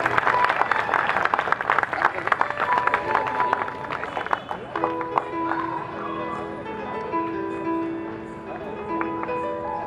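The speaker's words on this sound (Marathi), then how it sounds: "जोरदार टाळ्या होऊ द्या जोरदार" Loud, dense clapping from a crowd at a commemoration event, steady at first and thinning out, with a voice and some musical tones coming through underneath.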